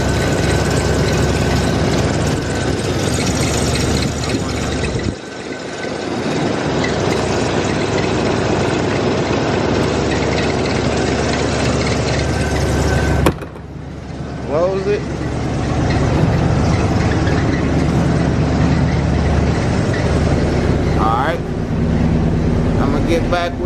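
A Corvette engine idles steadily on a lift, a continuous low rumble that runs loud throughout with brief dips, while people talk nearby.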